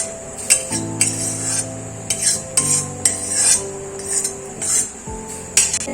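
Soaked, softened flattened rice (poha) being mixed with gram flour batter in a bowl, with repeated clinks and scrapes of a metal spoon against the dish under soft background music. No one speaks.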